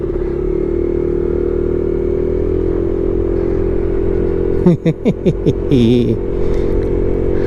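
Inexpensive motorcycle idling loudly in traffic with a steady low engine drone, then a short burst of revving pulses and clattering mechanical noise before settling back to a rumble.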